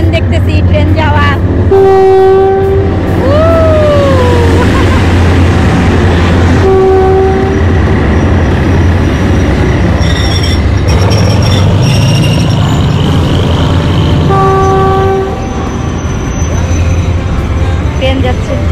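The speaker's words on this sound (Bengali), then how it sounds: "এই যে ব্রিজের উপর থেকে ট্রেন দেখতেছি" A train crosses the Kanchanaburi death railway bridge, its horn sounding in several long, clear blasts with a bending pitch, over a steady rumble of wheels and cars; a voice speaks at times in the background.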